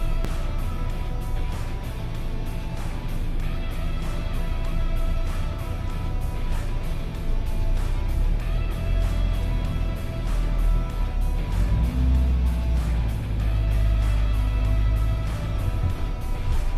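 A Mahindra Thar 4x4 drives over an off-road incline and sudden decline, its engine a continuous low rumble with the tone shifting near the end.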